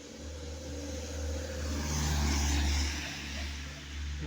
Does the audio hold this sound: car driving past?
yes